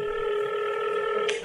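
A steady telephone tone used as a comedy sound effect, a sustained electronic hum with layered pitches that holds for over a second, ending in a brief click.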